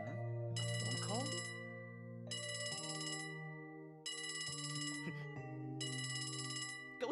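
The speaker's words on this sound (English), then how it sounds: "A phone call?" Trilling phone ring in Trails From Zero, four bursts of a bright electronic bell in steady rhythm, played over background game music.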